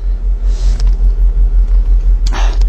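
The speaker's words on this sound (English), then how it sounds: "She's on gas now. So, LPG up and running." A Ford Focus engine idling on LPG, a steady close low rumble with a regular throbbing pulse, plus a couple of brief clicks and rustles over it.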